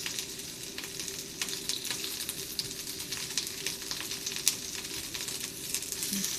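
Leeks (negi) grill in a pan, a continuous moderate sizzle with scattered small pops and crackles, no voices.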